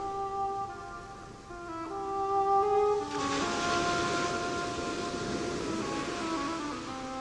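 Waves wash ashore at Vai, a palm-fringed beach on a lagoon-like bay at the far eastern tip of Crete. Soft music plays alone at first, then a broad, steady surf hiss rises and continues beneath it.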